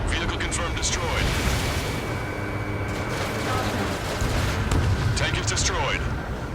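Heavy explosions and gunfire from a missile and bombing attack in the combat flight game Ace Combat 7, a continuous loud battle roar with radio voices talking over it.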